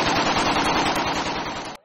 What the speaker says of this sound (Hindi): किसी ने छोटे हथियारों से गोलियां चलाकर खुशियां मनाई।